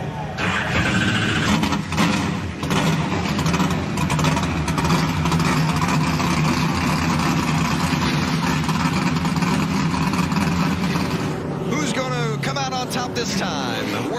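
Several NASCAR Camping World Truck Series engines fire up and idle at Daytona, a dense, steady mechanical roar under a crowd and announcer commentary.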